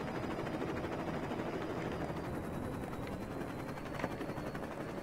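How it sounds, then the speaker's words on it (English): Helicopter in the open-world game Saints Row 2, a continuous rotor and engine drone with a fast chopping flutter, steady and fairly close for the whole stretch, with no talking. "This helicopter's a bit weird."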